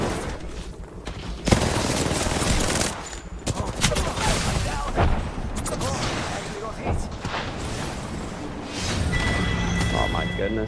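Dense, sustained gunfire from the Apex Legends video game, with rapid overlapping shots and thumps filling the whole stretch, loud and continuous under a player's excited talk.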